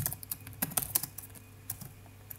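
Quiet, nearby typing on a computer keyboard while writing test code, with irregular bursts of keystrokes that thin out toward the end, alone without speech.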